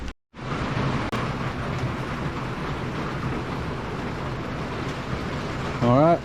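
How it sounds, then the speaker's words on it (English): Steady rain hiss fills the space around a survival knife restoration, constant and fairly loud, with a brief dropout near the start and a short rising tonal sweep at the end. "sorry about that rain noise"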